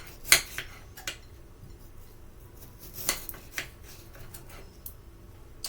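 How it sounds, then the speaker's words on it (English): A knife slicing through potatoes on a cutting board, a few sharp, separate clicks and taps spaced irregularly, close and fairly quiet, with no talk. "you just want to start by slicing them"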